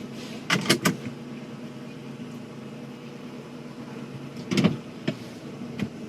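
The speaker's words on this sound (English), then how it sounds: "Crack these windows." Truck power windows on a lifted Nissan Frontier Pro-4X being lowered, heard as short electric motor whirs and clicks in two brief bursts over a quiet cabin hum.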